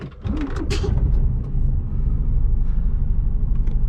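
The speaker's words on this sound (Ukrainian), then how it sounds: "Заводимо наш автомобіль." A heavy truck engine, a semi-trailer tractor, cranks and catches, then settles into a loud, steady low rumble with a few clanks and hisses near the start.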